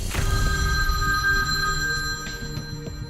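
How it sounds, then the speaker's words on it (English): A telephone bell rings in steady bursts with a bright metallic tone, fairly close and loud over a low background rumble, with no voices. "Then, he kept ringing Melissa's sister."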